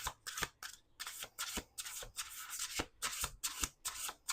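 A large deck of cards is shuffled by hand, close and quiet, in a series of quick riffling bursts separated by brief pauses.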